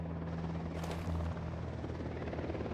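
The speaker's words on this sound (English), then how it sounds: "Chopper inbound." A helicopter flies in Ghost Recon Wildlands, its loud, steady rotor thrum holding throughout, with a brief swell partway through, close and unbroken.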